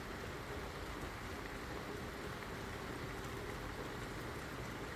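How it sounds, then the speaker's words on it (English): Steady rain falls in a dense, even wash of patter with no breaks, soft and continuous throughout. "I love the sound of rain, man."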